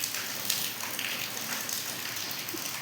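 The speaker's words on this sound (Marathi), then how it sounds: "दारात पाऊस आहे" Steady rain falls just outside a house doorway, a continuous soft hiss of drops with no voices, even and unbroken throughout.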